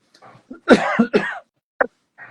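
A few close, harsh coughs in quick succession, with a short throat-clearing burst after a pause.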